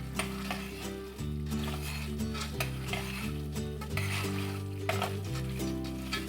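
A quarter of an onion stirred and fried in a pan alongside green beans, a steady sizzle with repeated scraping and clinking of a utensil against the pan, close up with no talking.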